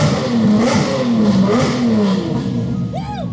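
A Lamborghini with a straight pipe exhaust revs loudly and close, its engine note rising and falling in repeated surges, with a brief high whine near the end.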